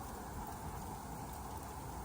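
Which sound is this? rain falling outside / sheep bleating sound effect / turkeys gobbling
rain falling outside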